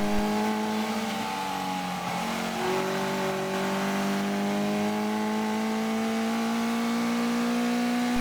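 Sigma race cars accelerate hard off the grid at the start of a race at Donington Park, a loud, dense wall of engine noise with rising pitches as several cars climb through the revs together, continuous and close.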